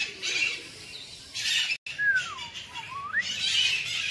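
Parrots of several species in a walk-in aviary at Alipore zoo, Kolkata, squawk and whistle in repeated bursts, with one rising and falling whistled call standing out nearby over a steady background of bird noise, and no speech.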